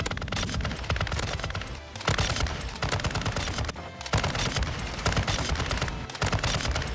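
Continuous light machine gun fire in Modern Warfare 2, dense rapid bursts that run almost nonstop, loud and close, broken only by a few brief pauses.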